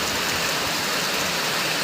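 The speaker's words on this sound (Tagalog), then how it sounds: "umiinit pero sobrang lakas ng ulan" Heavy rain pours down at a gas station in Monteclaro, a dense, steady hiss of downpour drumming on surfaces throughout, loud and close, with no talking.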